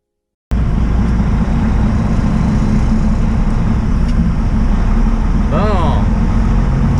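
Steady road rumble and engine drone of a truck driving on the road fill the clip from start to end, close and constant, with a person speaking over it.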